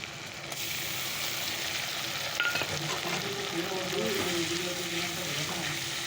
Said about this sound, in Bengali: চলো এটাকে একটু ভালো করে ভেজে নিই তো টমেটো আর পেঁয়াজটা হয়ে গেছে